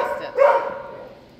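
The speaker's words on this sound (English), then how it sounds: "He is really a nice looking dog." A male dog, roughly two years old, gives a single sharp bark at an animal shelter, close and fairly loud, with a faint trailing tail and a little background noise.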